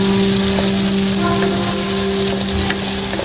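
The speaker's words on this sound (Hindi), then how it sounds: "प्याज को 4 मिनट फ्राई करेंगे।" Onions fry in a pan after ginger-garlic paste goes in, giving a loud, steady sizzle close up with a few scraping stirs and a constant hum underneath.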